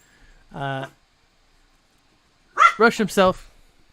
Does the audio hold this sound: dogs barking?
yes